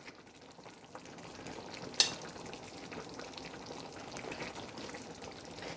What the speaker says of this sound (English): now I am going to go ahead and add my butter beans. And leave it to simmer.